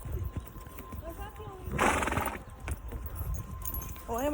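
Horse neighing and hooves clip-clopping during a Mallorca horse outing, a clear whinny burst mid-clip over steady hoof steps, with people chatting nearby throughout.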